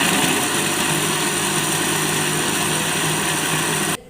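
Blender grinding milk and apple into a homemade milkshake in a village home, a steady, close motor drone that runs continuously and stops abruptly at the end.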